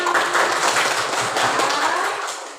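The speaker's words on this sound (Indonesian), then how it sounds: "tepuk tangan untuk kita semua" A group claps in a classroom lesson, a brisk burst of applause that fills the room and then tapers off toward the end. No one speaks over it.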